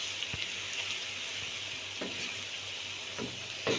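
Green chillies fry in oil, a quiet continuous sizzle broken by a few soft stirring scrapes.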